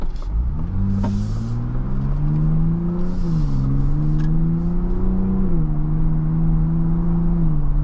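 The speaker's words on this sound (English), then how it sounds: "the engine noise is awesome" A 2024 Ford Bronco Raptor's engine pulls at half throttle from inside the cabin, a loud steady growl whose pitch climbs, dips at each shift and climbs again, with no voices.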